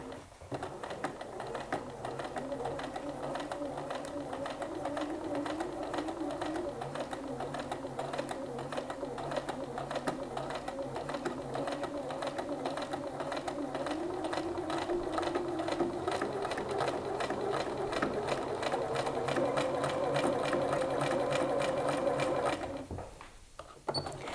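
A sewing machine runs at a steady medium speed while stitching the front pockets of a pair of jeans. The whirring is continuous and fairly close, and it stops abruptly near the end.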